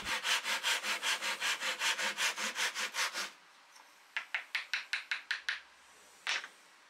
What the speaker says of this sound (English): It takes literally just a few seconds with a handsaw.